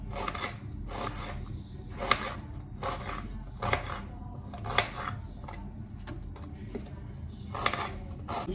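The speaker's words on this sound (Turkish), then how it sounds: "Bir adet soğanı da aynı şekilde kesiyorum." A whole onion cut with a knife in a home kitchen, a series of rhythmic rasping slices repeating every second or so, close and fairly quiet, with no talk.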